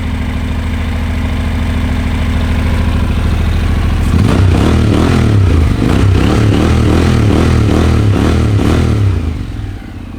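A 2013 Honda NC700S motorcycle engine idles at first, then revs up into a loud, throbbing, pulsing run close by, settling slightly at the end.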